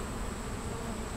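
Honeybees at an urban backyard hive give a steady, dense buzzing hum, close and continuous throughout, with no talking.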